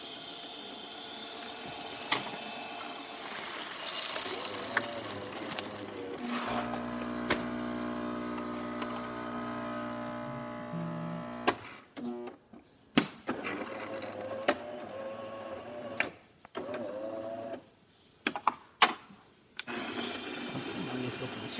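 A serviced Jura coffee machine runs its test cycle, a steady motor whir and pump hum for several seconds, then stops and gives way to sharp clicks and knocks from handling the machine.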